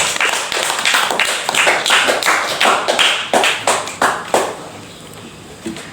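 A classroom of students clapping hands together in a lively burst of rapid, sharp claps that gradually thin out into a few final separate claps before fading.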